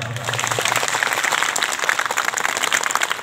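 Audience applause of many hands clapping in a dense, steady patter, fairly close and sustained throughout with a faint voice underneath.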